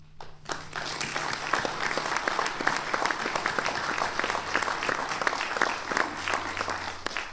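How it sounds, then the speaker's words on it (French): Firefighters applaud at a Sainte Barbe ceremony at a rescue centre in Lézat, a sustained round of clapping from a fairly close group that begins abruptly and keeps going steadily, with dense overlapping hand claps and no voices standing out. "Je crois que vous pouvez vous applaudir comme vous le méritez."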